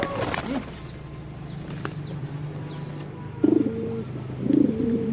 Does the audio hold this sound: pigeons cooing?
yes